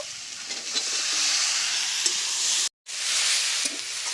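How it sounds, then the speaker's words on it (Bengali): Steady, continuous sizzling of cabbage and peas frying in a pan, with faint scraping of stirring; a brief total dropout partway through. "মটরশুঁটিটা দিয়ে একটু নেড়ে ছেড়ে নেব"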